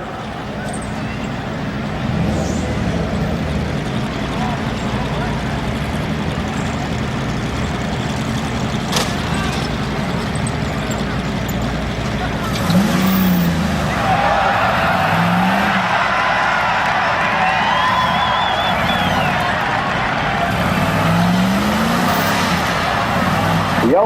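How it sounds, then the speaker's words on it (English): A 1998 Dodge Ram 1500 runs in a rough truck competition, its engine droning loudly and steadily with sweeping revs and tire noise in the second half, and a crowd can be heard faintly underneath. "Alex driving a 98 Dodge Ram 1500."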